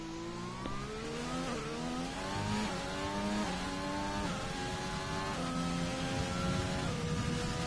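A McLaren race car engine in a racing video game holds a high, strained whine, revving in repeated rising sweeps with brief dips at gear changes, loud and continuous with no talk.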